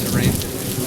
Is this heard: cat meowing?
no